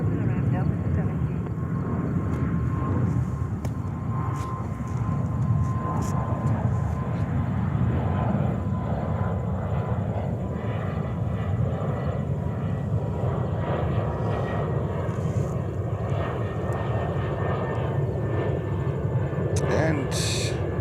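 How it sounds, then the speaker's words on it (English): A Turkish Airlines Airbus A350-900 jet at JFK, bound for Istanbul, gives off a steady, moderately loud engine rumble and hum that lasts throughout, with muffled voices faintly over it. "Yes, Turkish Airlines 350-900 flight 4 to Istanbul"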